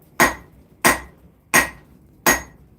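Four loud, evenly spaced hammer blows ring out as a smith forges a square taper on a bar of steel, about 0.7 seconds apart, each a sharp metallic strike with a brief ringing decay and no talk.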